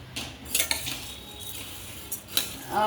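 Rice for chakli bhajani dry-roasting in a pan, stirred with a metal utensil that scrapes and clinks against the pan in short bursts.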